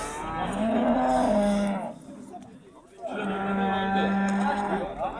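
A young calf at a Şebinkarahisar livestock market lets out two loud, drawn-out moos separated by a brief pause, close by, with market noise in the background.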